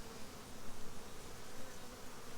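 Honey bees buzzing around a small nuc hive just after a queen release, a steady, dense hum that swells and dips slightly throughout, close by and with no talking.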